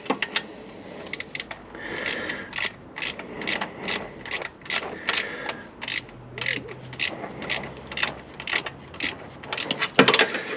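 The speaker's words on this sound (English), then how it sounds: "now we can just go ahead with our ratchet, get that ratchet in there." A hand ratchet tensioning a belt on a Vauxhall Suzuki, clicking in rapid, fairly regular bursts at close range with short pauses between strokes and a faint low hum underneath, no talk.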